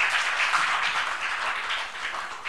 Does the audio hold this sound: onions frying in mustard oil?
no